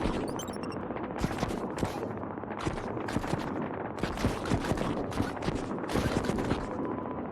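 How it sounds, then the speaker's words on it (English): An automatic turret in a vector-graphics arcade shooter fires steadily, a dense continuous stream of sharp rapid shots with louder pops scattered throughout, close and unbroken. "but the turret is automatically firing"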